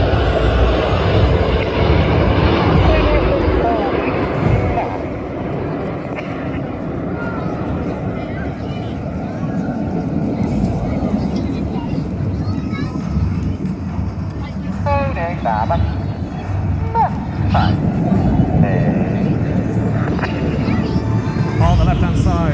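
Red Arrows Hawk T1 jets flying in formation at an airshow, a steady broad engine roar rumbling throughout while a commentator talks over it on the public address.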